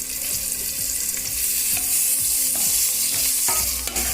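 Onion frying in oil over a medium flame, a continuous loud sizzle with a rhythmic scraping of a utensil stirring the pan, no voices.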